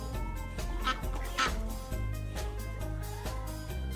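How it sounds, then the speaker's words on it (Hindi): A duck quacks in a run of nasal calls, close and fairly loud, set against a steady background of music. "डक बत्तख"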